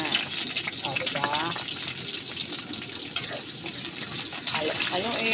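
Chopped onion sizzles and fries steadily in a pan while being stirred toward golden brown, the base for sardines with alugbati; the hiss stays close and continuous, with a voice talking over it.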